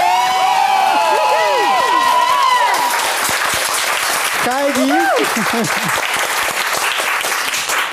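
Audience applause at a televised cooking contest show, a loud continuous wash of clapping with cheering, while a presenter talks and tonal music swoops over it.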